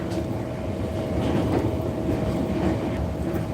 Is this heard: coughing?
no